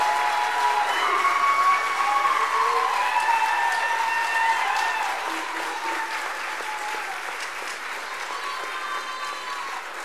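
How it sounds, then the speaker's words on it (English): Loud, dense applause from an audience at a Georgia Military College ROTC commissioning ceremony, a steady roar of many clapping hands that eases slightly halfway through and continues to the end. "All right, round of applause."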